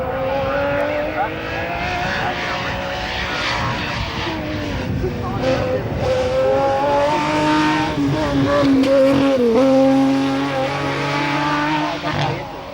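A race car climbs the S bends at the 1994 Australian Hillclimb Championships at Collingrove, its engine revving hard and shifting pitch continuously through the corners, with commentary running over it.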